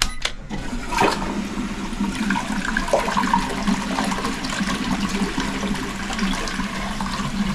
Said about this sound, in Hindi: यहाँ दिए हुए बटन जो मैंने देखे ना बटन ये फ्लश का बटन देखो